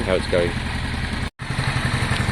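Honda Deauville motorcycle engine running after a carb clean and fuel pump trouble, a close steady idle with a brief cut partway through and someone talking over it.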